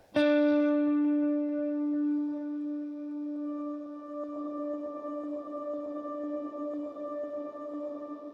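A single electric guitar note played through a Line 6 Helix with tube screamer drive, delay and reverb rings out sustained and bright, then swells into a long, dense, shimmering tail that carries on alone.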